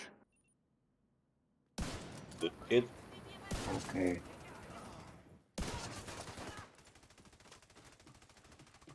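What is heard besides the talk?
gunshots in a video game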